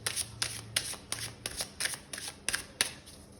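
Tarot cards are shuffled and drawn from a deck close by, with about ten quick, crisp riffling snaps in an uneven rhythm and no talking.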